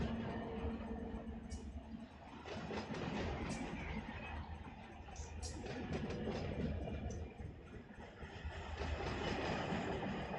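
A train in the Run 8 simulator, on the LAJ outbound run, creeps forward with a steady rumbling engine drone, rail noise and scattered clanks and squeals, loud and continuous throughout.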